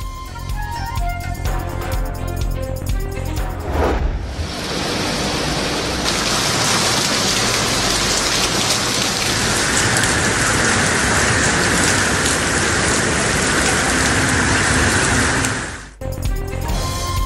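Heavy monsoon downpour, a loud dense roar of rain hammering surfaces that holds steady for about twelve seconds between brief stretches of other sound.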